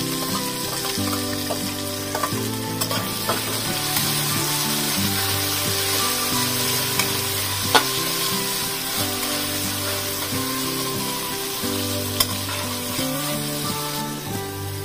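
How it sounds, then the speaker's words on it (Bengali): Chopped tomato sizzles with fried onions in a pan, a steady crackling fry running throughout beneath a background of rhythmic tonal music. "পেঁয়াজটা ভাজা হয়ে গেছে, এর মধ্যে আমি টমেটো কুচোটা দিয়ে দেব"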